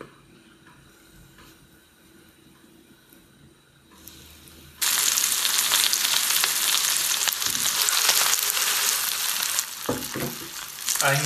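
Pieces of yellow croaker fish dropped into a generous amount of hot oil over high gas heat burst into a loud, close, steady sizzle after a few quiet seconds, crackling continuously with a brief dip near the end.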